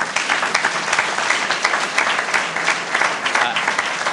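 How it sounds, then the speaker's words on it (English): Audience giving a round of applause at a public event welcoming a new school district CEO, a loud sustained crowd clapping with a dense, slightly fluttering texture that stays steady throughout. "Can we give them a round of applause?"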